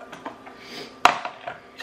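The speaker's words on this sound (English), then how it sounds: "I usually get a spatula to get it all out" A spatula scrapes cereal-and-milk protein fluff from a bowl, giving a few soft, close scrapes and light taps on the bowl, with one sharper clack near the middle.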